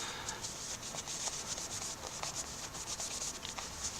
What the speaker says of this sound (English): just sort of rubbing the oil in, rubbing it off, shining it up